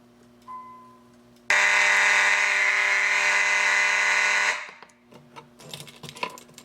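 Notifier AFP-100 fire alarm panel sounding a drill, a loud continuous harsh electronic tone that cuts in suddenly, holds for about three seconds and then fades, followed by faint clicks and handling.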